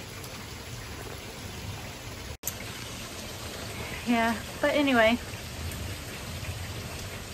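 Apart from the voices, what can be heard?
heavy rain downpour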